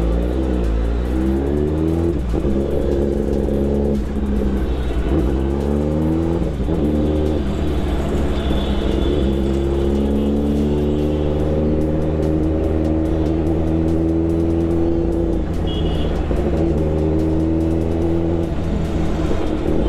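Kawasaki ZX-10R superbike ridden through a busy city at night in Kanpur, its engine droning loud and close throughout with repeated rev rises and gear changes, plus a faint passing vehicle tone.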